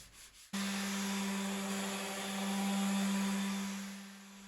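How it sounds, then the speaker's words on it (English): Orbital sander with 180 grit ceramic abrasive working a teak veneer coffee table top, starting abruptly and then running as a steady close whir with a strong hum and a rough scratchy surface noise. "I continued sanding the top using 180 grit ceramic nets on the machine"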